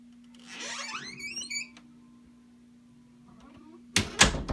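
A door swings shut under an Ultra door closer: a squeaky, rising creak at the start, a quiet stretch with a steady background hum, then a loud latching thud and rattle near the end.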